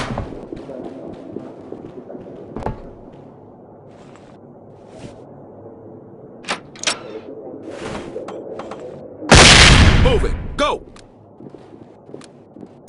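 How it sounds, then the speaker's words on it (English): A flashbang grenade goes off at a doorway in the tactical shooter SWAT 4, a single loud burst that stands out from scattered thuds, footsteps and taps inside a quiet indoor space. "Deploying a grenade into the doorway will buy your team time to clear the threshold"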